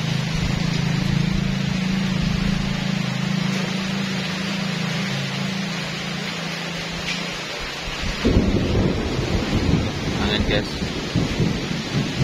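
Wind-driven rain pours steadily during a thunderstorm, with thunder rumbling low under the downpour. Rain and gusts grow louder and rougher toward the end, and a voice briefly speaks.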